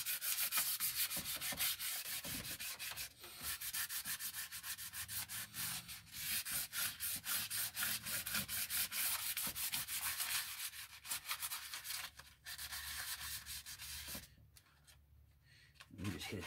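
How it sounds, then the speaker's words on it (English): Steady rubbing and scraping of wet sanding wood by hand on a scratch-built model, continuous with brief pauses, close up, with a voice talking intermittently over it. "kind of wet sanding as I go too"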